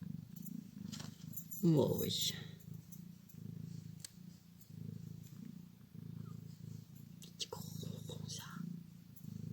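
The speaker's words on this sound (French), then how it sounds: "Tu ronronnes en public" A cat purrs close up in a steady low rumbling drone that continues throughout, with someone speaking French over it and some brief handling noises.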